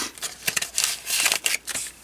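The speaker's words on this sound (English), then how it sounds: "When I need small strips, I just cut all the way across." Scissors or a blade slicing across foam sheet into small strips for card making, giving a close, soft crisp snipping texture in quick successive strokes, with no talk.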